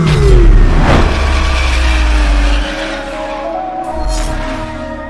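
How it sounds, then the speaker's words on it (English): Dodge SRT performance car engines roar and rev loudly up close, with tire squeal and skidding mixed in, then ease to a lower throttle rumble before a brief surge near the end. "some of the engine sounds that's layered in the video hint at some truly awesome SRT machines on the horizon."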